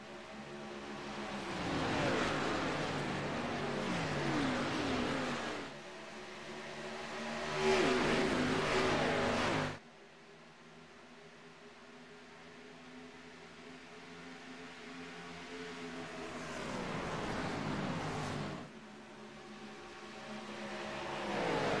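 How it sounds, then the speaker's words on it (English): NASCAR Xfinity Series race cars accelerating through the gears, engines climbing in pitch, dropping at each shift and climbing again, with passes that swell loud and then fade, heard alone without talk. "Drivers getting up through the gears."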